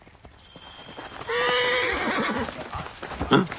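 A racing mare whinnies in the Assassin's Creed Origins video game, one long loud neigh rising and trailing off, with hoof clatter and commotion around it, close by.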